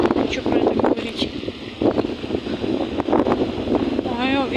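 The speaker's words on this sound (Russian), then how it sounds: "Ой, ветер поднялся." Wind buffets the microphone in gusty rumbles on a city street in Kurgan, Russia, while a person talks over it, the blowing rising and falling throughout.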